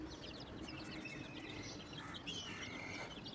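Restless chicken chicks cheep and chirp in a steady, overlapping chorus, thin high calls piling up close by over a constant low background rumble, with no talking.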